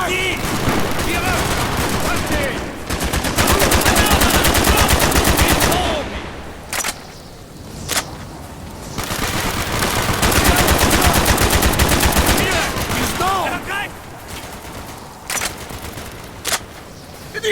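Dense gunfire and mortar blasts from the Call of Duty Black Ops video game, with sustained machine-gun bursts and sharp explosive hits rattling on and off throughout, while voices shout over the combat.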